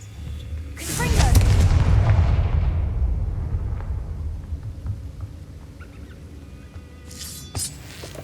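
A Confringo fire spell bursts in Hogwarts Legacy, a loud booming explosion that swells and then decays over several seconds into a rumbling tail, followed by a few faint clicks and a brief sharp crackle near the end.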